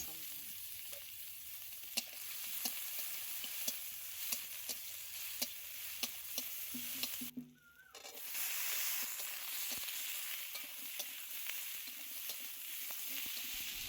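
Ridge gourd and potato pieces fry with onion and garlic in a pan, a quiet continuous sizzle dotted with small crackling pops and a brief dip partway through, with no talking.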